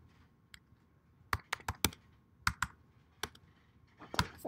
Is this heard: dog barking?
no